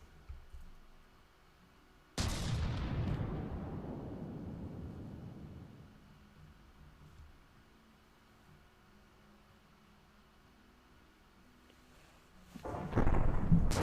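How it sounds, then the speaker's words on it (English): A heavy particle cannon blast in a video game booms out, then rumbles and fades slowly over several seconds. A second loud burst hits near the end. "That's a huge particle cannon."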